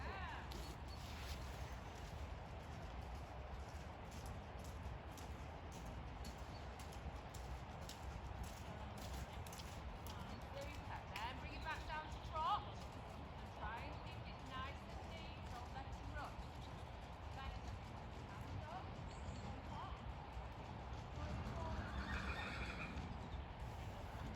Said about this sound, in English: The horse reared.